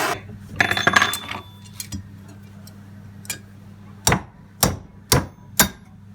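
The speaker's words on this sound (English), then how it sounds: "And all you need, Steve, is a massive hammer" A heavy hammer drives a bearing into the swivel joint of a Land Rover Series 1, giving sharp, ringing metallic strikes: a quick cluster first, then single spaced blows close by.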